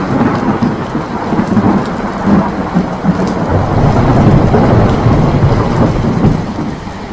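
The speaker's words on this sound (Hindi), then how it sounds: "आसमान में बिजली कड़क रही थी और तेज बारिश हो रही थी।" A heavy thunderstorm with dense, steady rain pouring onto surfaces and deep rolling thunder rumbling underneath, loud and continuous throughout with no voices.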